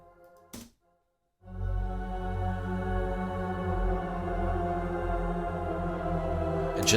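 A brief shimmering burst cuts off, then after a short gap a sustained virtual choir pad with shimmer reverb swells in and holds, with a bright airy shimmer over the voices.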